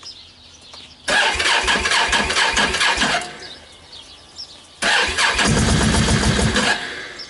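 A Wolverine X2 ATV engine cranks and catches in a snowy garage, two loud bursts of starting and revving with a quieter pause between, no talk.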